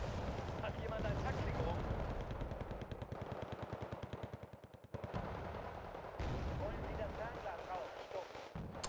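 Rapid bursts of gunfire and artillery-style blasts from a Wargame: Red Dragon battle involving mortars, loud and continuous with a rattling machine-gun stretch in the middle, under someone talking.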